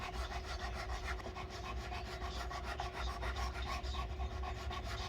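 Diamond files crown the frets of a 2018 Gibson ES-275 in a fret-leveling job, a close rhythmic rasping rub repeating in quick steady strokes, faint and continuous.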